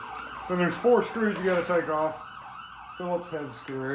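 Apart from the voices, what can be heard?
emergency vehicle siren passing outside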